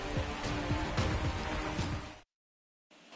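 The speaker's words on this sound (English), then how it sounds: "The rain is here, and it doesn't look like it's going away anytime soon" Steady rain patters during a baseball game in MLB The Show 23, a dense, loud hiss of drops that runs continuously, then cuts to silence briefly before returning more faintly.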